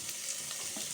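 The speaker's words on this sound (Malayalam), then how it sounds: "ഈ തക്കാളി ഇട്ട് കൊടുക്കാം." Onion and tomato sizzle steadily in a hot pan while Maggi masala is being prepared, a continuous close frying hiss with faint stirring, no voices.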